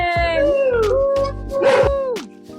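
At an open mic night, audience members imitate dogs with their voices, producing drawn-out howls and yips that rise and fall in pitch, several voices overlapping loudly and close.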